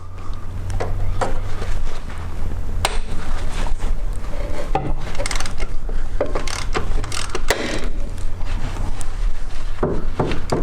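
Ratchet with a 10 mm Allen socket working a drain plug loose on a Dodge Cummins diesel, giving steady close mechanical clicking and clanking with scattered sharp metallic taps throughout, no talking.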